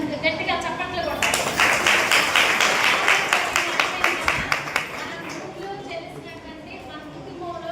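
Audience clapping in a hall after someone speaker's address, a dense burst of hand claps that swells in at about one second, holds steady, then thins out toward the end, with voices talking over it.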